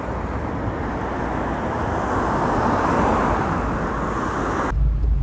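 Street traffic in Vila Isabel, Rio de Janeiro, heard from a moving car: a continuous broadband road and engine roar that holds steady, then cuts off abruptly near the end.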